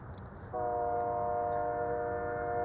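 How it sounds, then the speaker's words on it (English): A train horn blasts after a short quiet moment and holds as a steady, loud, multi-tone chord until the end. "A train."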